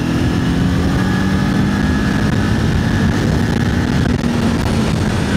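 A Modenas Ninja 500SE motorcycle engine roars at full throttle in fifth gear, a steady, loud, continuous drone with wind rush and no pauses throughout.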